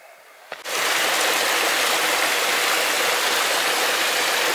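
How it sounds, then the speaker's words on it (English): A small waterfall beside a hiking trail on Sweden's High Coast, a loud, steady rush of falling water that starts abruptly after a short quiet moment and continues unbroken. "here we've reached a small little waterfall"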